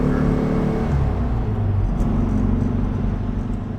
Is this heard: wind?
no